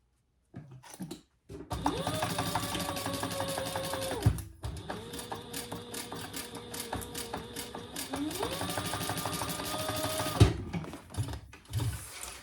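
A sewing machine stitches the seam of a small crossbody bag, with two long bursts of steady whirring, mechanical stitching separated by a short pause and clicks at each start and stop.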